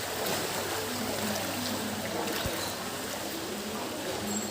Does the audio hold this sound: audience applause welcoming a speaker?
no